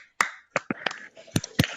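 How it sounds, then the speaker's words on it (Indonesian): A few scattered claps from a small classroom group, sharp isolated hits spaced unevenly over under two seconds, close and dry, with faint voices murmuring between them. "Tepuk tangan dulu untuk kelompok kinestetik."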